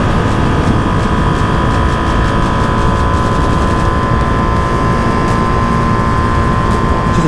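A 2023 Ducati Panigale V2 Bayliss Edition V-twin drones loud and close under heavy wind roar, holding a steady engine tone throughout with no voices.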